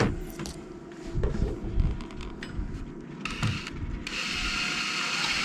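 A power driver sets clip screws into composite decking, giving ratcheting, grinding mechanical bursts close by, followed by a steady whirring hiss near the end.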